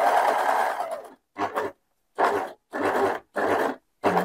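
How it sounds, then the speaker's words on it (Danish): Overlock serger machine stitching along a fabric edge while sewing a girl's dress, running in several short bursts: a long opening run, then four or five brief spurts separated by pauses, close and fairly loud with no talk. "jeg kører lige samme tur her, hvor jeg overlocker ud over kanten"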